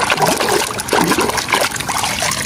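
Water trickles and splashes over toy cars as they are washed, a close, continuous running and dribbling sound with uneven gurgling surges.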